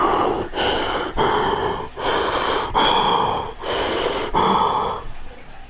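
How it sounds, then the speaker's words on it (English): Heavy, rhythmic breathing through a gas mask in Fallout 76: a run of about seven loud, close, hissing breaths in steady succession, with no talking over them. "why are you breathing so heavily?"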